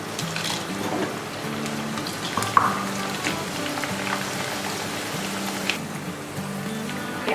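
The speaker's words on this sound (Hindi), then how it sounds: "इसको बैचेस में तल लेना है।" Raw cornflakes deep-frying in a batch of hot oil, giving a steady dense sizzle and bubbling crackle that runs throughout at close range, loud and unbroken.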